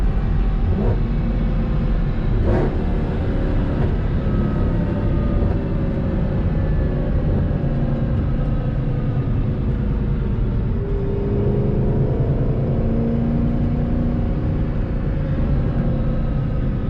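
A Mercedes W204 C63 AMG with a modified engine pulls hard through fourth gear, its deep rumble building steadily under constant load for the whole stretch, loud and continuous from inside the car with no speech.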